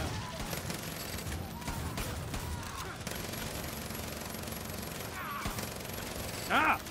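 An unlimited-ammo gun that overheats, fired in a Far Cry 5 zombie mode as steady low rapid fire under game noise, ending in a brief louder burst.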